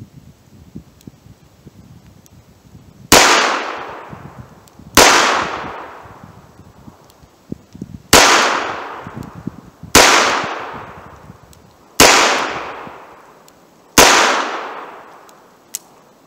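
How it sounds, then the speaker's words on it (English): .38 Special revolver with a 4-inch barrel firing at an outdoor range, six loud close shots spaced about two seconds apart, each with a sharp crack and a fading tail. "Let's see how the 4-inch barrel does with the 38 Special."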